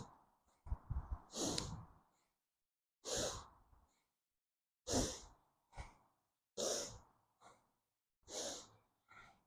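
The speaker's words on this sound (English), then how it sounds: "Again, you can employ the rhythmic yogic breath here." Rhythmic yogic breathing during a kundalini and yin practice: about six deliberate breaths, each a soft airy rush, separated by short quiet pauses, close and clear with no talking.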